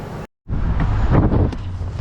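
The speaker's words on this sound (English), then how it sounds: "Ooh, it is windy down here." Strong wind buffets the microphone near the Great Salt Lake, a steady broadband rumble after a brief cut of silence, loud and close with gusty swells.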